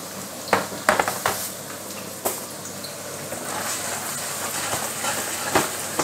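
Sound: vegetables sizzling in hot oil in pan

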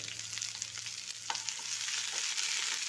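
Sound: sautéing chopped onion in pan

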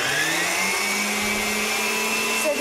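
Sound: electric mixer beating eggs with sugar

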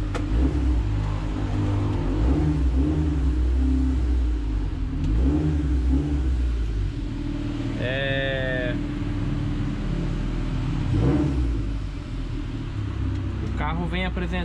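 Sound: car engine running

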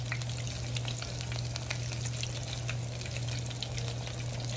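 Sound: beer-battered Cajun onion rings frying

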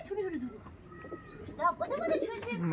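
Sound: pigeon cooing in a loft

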